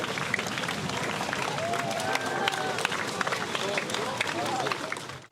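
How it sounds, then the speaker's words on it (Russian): A large open-air crowd on a seaside evening gives loud, sustained applause and an ovation, dense clapping with some cheering that continues without a break until the very end. "Громкие аплодисменты, бесконечные овации."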